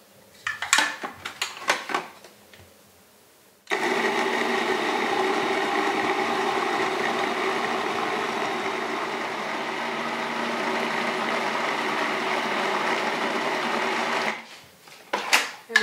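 Walnuts mashed and pulverized in a food processor for raw banana bread: a steady, loud whirring grind runs for about ten seconds without a break. Brief clatter and handling noises come before and after it.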